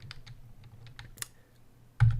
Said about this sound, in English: I'm just typing code to the shell